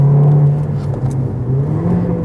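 A Mercedes-Benz car accelerates with its automatic gearbox held in manual mode, the engine droning loud and close with a steady rising whir and rumble, no voices.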